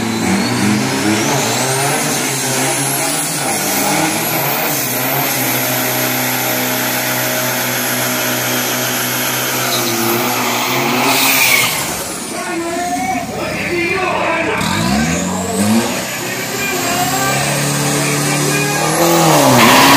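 Two cars with 3000 cc and 2500 cc engines racing on a road, loud sustained engine roar with revving rising and falling as they pass, under continuous talk.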